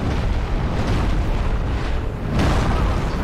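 A firebomb explodes in the Dark Souls video game as a loud, dense, roaring blast that fills the whole clip, swelling again with a second burst toward the end.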